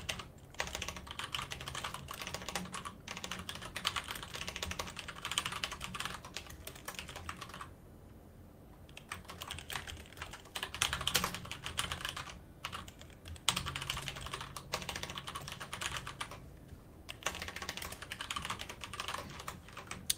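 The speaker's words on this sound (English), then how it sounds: "You have a mechanical keyboard, I can hear." Rapid, clattering keystrokes on a custom-built mechanical keyboard go on steadily and close, with brief pauses between bursts of typing.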